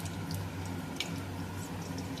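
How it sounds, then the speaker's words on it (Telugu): Onions fry in hot oil with ginger paste, bay leaf and spices for a mutton curry, giving a steady close hiss of sizzling with a few faint pops and drips. "అటు ఉల్లిపాయలు వేగుతున్నాయి."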